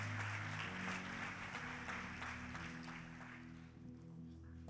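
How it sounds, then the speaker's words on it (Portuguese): A church congregation applauding steadily after a sermon, dense clapping that gradually thins and softens toward the end. "dê um aplauso para a palavra de Deus"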